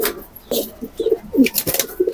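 High flyer pigeons at a loft give several soft, throaty coos in short bursts, close and fairly loud, with a faint higher chirp among them.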